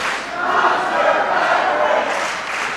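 A wrestling crowd at the 2300 Arena during a Monster Factory Pro Wrestling Turkey Slam Rumble roars in a sustained, steady mass of cheering and shouting that swells slightly and then eases off.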